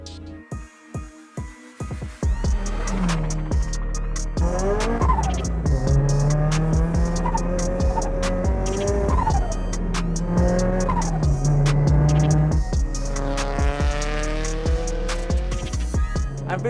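A HKS-tuned Toyota GT86 of roughly 400 hp revs loudly with long, wavering tire squeals as it slides, following a few short engine blips at the start.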